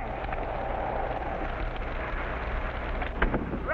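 Steady, close rainstorm hisses throughout a colorized 1950s family sitcom scene, with a brief crack of thunder rumbling in near the end.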